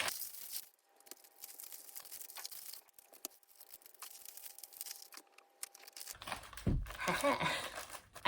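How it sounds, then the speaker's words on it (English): Gift wrapping paper tears and crinkles around a tube-shaped gift, with soft rustling throughout and a louder, closer burst of crumpling and tearing toward the end. "How do you wrap tube items? Like a Christmas cracker."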